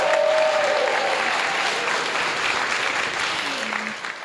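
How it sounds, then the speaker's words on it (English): Lecture-hall applause from a crowd holds strong and continuous, then begins to thin and fade toward the end. "Let's keep the applause going."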